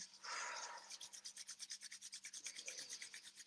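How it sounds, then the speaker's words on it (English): Two palms rub briskly together, first a long smooth swish, then a quick, even back-and-forth rhythm of dry rubbing strokes, close and soft in a quiet room. "Rub the hands together."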